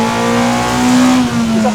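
A 1999 Honda Civic EK4 with a VTEC engine revving hard, a loud, close, rising engine note held steady for under two seconds.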